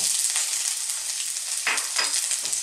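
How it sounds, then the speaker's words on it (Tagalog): Garlic sizzles and crackles in hot oil in a wok for ginisang upo with sardines, a steady close frying hiss with a few louder bursts of spattering, no voices. "Mainit na po yung ating wok. Meron na rin po mantika. Lagyan na po natin ang bawang."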